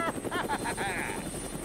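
A helicopter in the video game Dead Rising, heard as a rhythmic rotor chop under a steady high engine whine, moderately loud, with a voice speaking over it.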